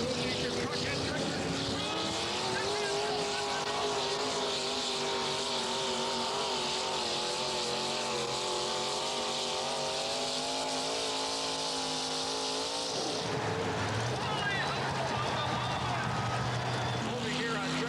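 Truck and tractor pull at a Ford Budweiser event in Anaheim, California, with big engines roaring loud and continuous, rising in pitch under strain and then dropping sharply to a lower drone.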